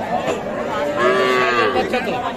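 Sahiwal cattle at a busy livestock market giving a single drawn-out moo, loud and close over a constant murmur of crowd chatter.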